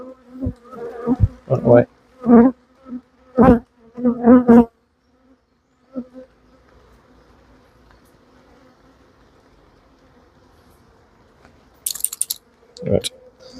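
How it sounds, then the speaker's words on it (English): Agitated honeybees buzz around an open hive during an inspection in the rain, a faint droning hum under repeated loud handling knocks and clatter, with a brief remark from a voice. "These bees are really not happy with the rain."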